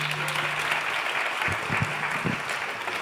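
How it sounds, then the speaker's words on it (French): A stage audience claps steadily at an awards ceremony for digital-industry prizes, a continuous dense wash of applause filling the room, with a faint low hum beneath it. "On peut l'applaudir aussi."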